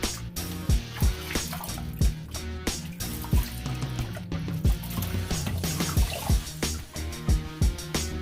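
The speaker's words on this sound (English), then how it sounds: "let's rinse off our face." Water splashing and dripping as a face is rinsed after a double edge safety razor shave, close irregular splashes and trickles with music underneath.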